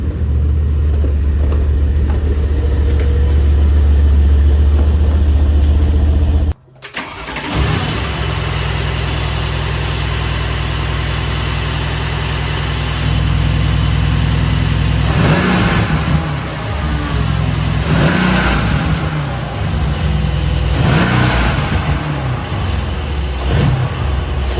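Mercedes C63 fitted with Renntech blow-off valves idles loudly up close, cuts briefly, then restarts and settles into a deep idle before several throaty revs with hissing releases in the later part.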